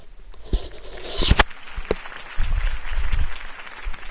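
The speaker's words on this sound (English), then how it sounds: "If only Mr. Wayne, my campaign's largest backer, could have heard that applause" A crowd at a campaign speech in a Batman Telltale video game breaks into scattered clapping, sharp claps at first that build into a brief, fuller round of applause in the background.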